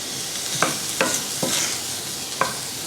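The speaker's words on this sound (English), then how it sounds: "Then I'll add the venison." Venison sizzling steadily in a hot pan with a bright, continuous fry, broken by about four sharp scrapes of a spoon or spatula stirring the meat.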